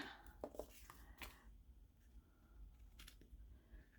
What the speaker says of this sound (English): let me get my scissors out.